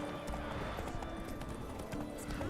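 Horse hooves clip-clop steadily in The Witcher 3, a continuous trotting rhythm mixed with game ambience and music at moderate loudness.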